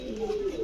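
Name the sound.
pigeons cooing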